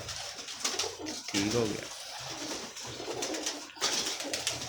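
Pigeons coo in low, soft bursts close by, mixed with someone talking and rustling, the cooing rising and fading through the stretch.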